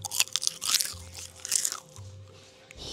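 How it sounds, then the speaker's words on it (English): Loud, close crunching of crisp food being bitten and chewed, several sharp crunches in quick succession, no talking. "Like, you know, stress eating ASMR."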